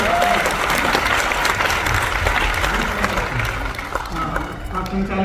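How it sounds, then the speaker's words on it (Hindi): A Hindi comic poetry gathering's audience breaks into loud, dense applause that rolls on steadily for several seconds, then starts to thin out toward the end. "थोड़ी सी ताली बजाइए। एक बार जोरदार ताली।"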